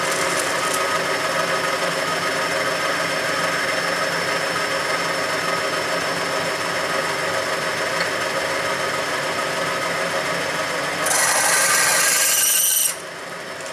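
A capstan lathe runs with a steady mechanical drone while centre drilling a Land Rover part, and a louder, harsher grinding rises near the end before cutting off abruptly.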